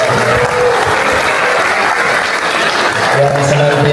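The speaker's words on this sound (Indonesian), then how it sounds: "Tepuk tangan untuk Lina Yuliana" Loud, steady audience applause at an Islamic boarding school Quran completion ceremony in Sukabumi, a thick continuous wall of clapping that carries on unbroken, with a faint voice underneath toward the end.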